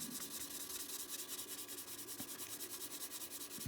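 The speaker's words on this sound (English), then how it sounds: "And we're just going to rub it in." Gritty cleaning solution being rubbed by hand onto a fishing lure, a steady rhythmic scratchy rasp of quick back-and-forth strokes, faint and close, with no voices.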